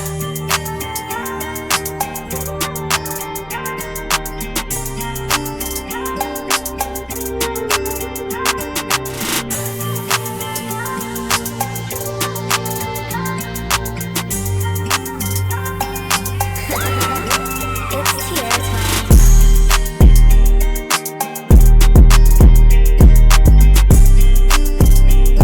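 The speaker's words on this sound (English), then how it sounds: "Yeah, so the full beat sound like this." Guitar-based hip-hop beat with a Mirror Touch drum kit, playing as a full mix of layered guitar melody, bass and steady drums, with heavier bass-driven hits and a brief drop near the end.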